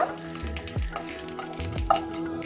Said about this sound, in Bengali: তেলটা ভালো করে গরম হলে দিয়ে দিচ্ছি কালো জিরে আর শুকনো লঙ্কা। কালো জিরে আর শুকনো লঙ্কাকে কিছু সময় ভেজে নেব